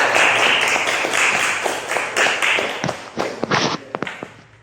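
A classroom of students applauds a classmate, a busy burst of clapping that thins into a few louder, scattered claps near the end.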